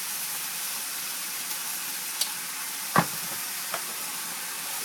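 Half a teaspoon of haldi and other spices sizzle in hot oil for Hyderabadi mango chicken: a steady soft hiss with a few sharp crackles and one louder pop, with no talking.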